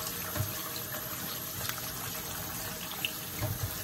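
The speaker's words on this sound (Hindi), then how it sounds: "इनमें हम सारा एक दफ़ा ठंडा पानी फिर फूर लेंगे" Cold water pours steadily over cooked pasta for a chicken tandoori creamy pasta dish, a quiet continuous running and splashing close by with a few small bumps and no talking.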